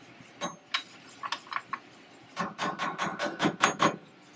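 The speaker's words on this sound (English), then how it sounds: "Hammer your weight on." Wheel weight hammered onto a tire rim at a Hofmann Geodyna 7100 balancer: a few scattered sharp metallic taps, then a quicker run of about eight ringing blows close by, with no talk.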